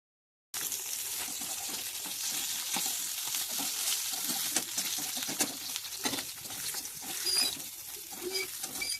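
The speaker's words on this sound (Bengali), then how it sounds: "ওই জন্য ভাবলাম সব মাছগুলোই ভেজে দিই।" Fish sizzles steadily in hot oil in a pan on a gas stove, with a dense, crackling spatter and occasional pops, close and fairly loud throughout after a brief silent start.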